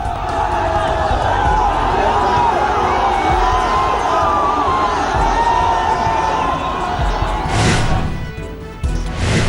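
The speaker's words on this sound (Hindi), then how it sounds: "मुंबई में उनके बंगले मन्नत के बाहर जुटी चाहने वालों की भीड़" A dense, loud crowd of fans gathers outside Shah Rukh Khan's Mannat bungalow in Mumbai, a continuous roar of many voices with bangs and bursts near the end.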